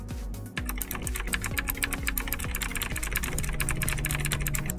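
Rapid, steady typing on an old computer keyboard, with dense overlapping clacks of the keys close up and no voices, after a brief pause at the start.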